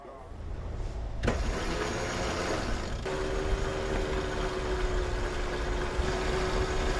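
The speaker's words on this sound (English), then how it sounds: "So we are underway. We are motor sailing because we are in a bit of a hurry" A catamaran's engine runs steadily while the boat is motor sailing underway, giving a continuous close drone with a sharp knock early on and a faint tonal whine joining partway through.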